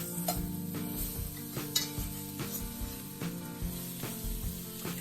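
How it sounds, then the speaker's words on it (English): A butter and flour roux for mac and cheese is stirred steadily in a pan, soft sizzling under repeated scraping strokes of a utensil against the metal, with an occasional light clink. "Just keep stirring. You want to cook the flour taste out."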